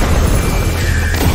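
A deep, loud booming bomb explosion from the video game Deadlock, one heavy low-end blast with a brief crackling tail.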